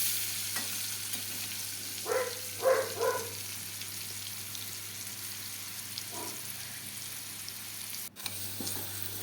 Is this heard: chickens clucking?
no